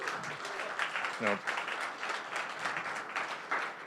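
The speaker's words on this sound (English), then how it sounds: "Can we just get a quick round of applause" A meetup audience breaks into a short round of applause, a dense patter of clapping that rises and fades across a few seconds beneath a speaker's voice.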